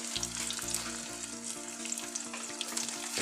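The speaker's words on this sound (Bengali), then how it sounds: "এখন এটাকে আমি একটু নেড়ে দেব" Sweet cumin and black pepper being stirred in a hot pan while making a sweet-sour hog plum pickle, a close, steady sizzle with light scraping from the stirring.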